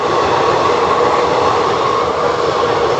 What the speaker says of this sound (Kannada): ಟ್ರೈನ್ ನಂಬರ್ 56520 ಹೊಸಪೇಟೆ ಕೆಸ ಬೆಂಗಳೂರು ಸಿಟಿ ಪ್ಯಾಸೆಂಜರಲ್ಲಿ ನಾವಿವತ್ತು ಟ್ರಾವೆಲ್ ಮಾಡ್ತಾ ಇರೋದು.